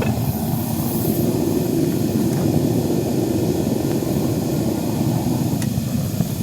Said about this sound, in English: we've got our propane furnace running on all cylinders right now